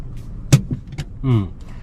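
A short series of mechanical clicks and a ratcheting clunk inside a car as the pull-up handbrake lever is released, close and quiet.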